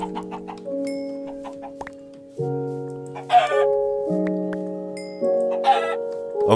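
Chickens in Minecraft with the Tekkit modpack, several loud close clucks and squawks in quick bursts over sustained synth background music, no talk.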